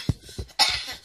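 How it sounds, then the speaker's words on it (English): A few separate coughs from one person, short harsh bursts close to the mic with brief gaps between them, the last one longer and rougher. "sorry guys for the coughing."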